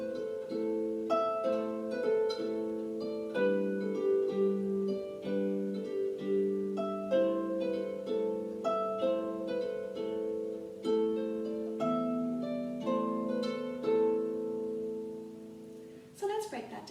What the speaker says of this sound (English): Welcome to my video tutorial on how to play Boru's March on the harp.